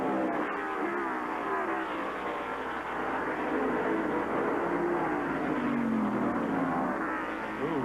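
Stock cars roar around an oval racetrack at the 1989 Banquet Frozen Foods 300, engines droning loudly and continuously, with pitch swells rising and falling as the pack passes.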